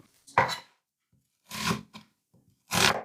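Knife chopping through an onion on a cutting board while preparing Japanese-style beef and onions: three separate crisp, close cuts, each a short burst of knocking and crunching, with quiet pauses in between.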